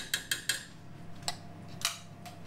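A teaspoon clinks and scrapes in a dish of mushy peas, giving three quick light taps close together, then two more spaced metallic clicks a little later, quiet and close with no talk.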